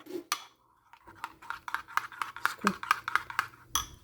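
A spoon clinks and scrapes repeatedly in a bowl while mayonnaise and milk are mixed for a macaroni salad, close rhythmic taps with speech partly over them.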